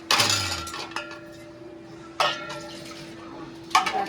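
Dishes being washed at home, with a few clinks of pots and utensils at spaced intervals over a steady hum and faint running water, close by with no talk.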